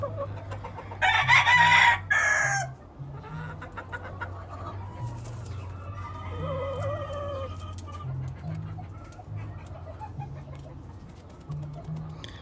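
A rooster crows once, loud and close, in a long drawn-out call early on, followed by quieter clucks and distant bird calls over a steady low hum of farmyard background.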